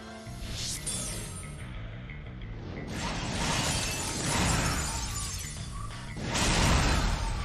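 Shatter Heart ability effect from Dissidia Final Fantasy Opera Omnia, a loud, dense burst of shattering, crackling game effects that surges several times over about seven seconds, layered with ringing magical tones and no talking.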